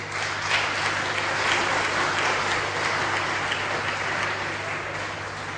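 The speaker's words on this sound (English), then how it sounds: "A round of applause for the KC family and host school for having us all in their space today" Applause from an audience at a school event, a steady, dense wash of clapping that holds evenly throughout with a low constant hum beneath and no voices over it.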